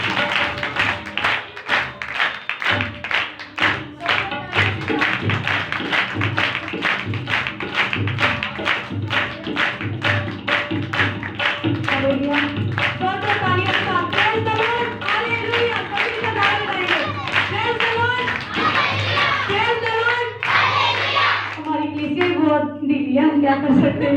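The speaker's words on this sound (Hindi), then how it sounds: "चलिए आपकी भरपूर तालियों में" A congregation at a church meeting claps along in a steady rhythmic beat for a long stretch, with music and singing rising toward the end.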